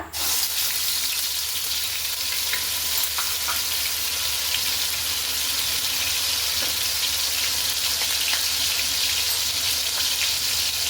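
Onion paste frying in hot oil gives a loud, dense, continuous sizzle with faint crackles, holding steady from start to finish with no talking.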